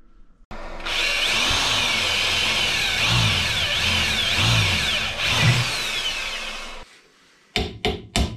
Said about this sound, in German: Deswegen bohre ich jetzt ein Loch